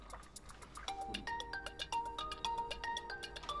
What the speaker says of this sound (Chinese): 你电话响哎。